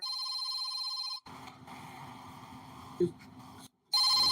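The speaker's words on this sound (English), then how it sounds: "he just looks at the phone while it's ringing loud right in your ear" A landline telephone rings loud and close with a steady electronic trill, cutting out for a gap of muffled room noise before the ringing returns.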